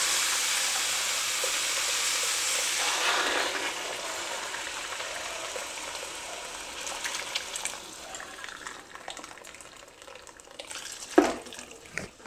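Water is poured into a cooking pot of sautéed vegetables, making a steady, close gushing splash for about three seconds. It then fades into a quiet simmer with a few light clinks.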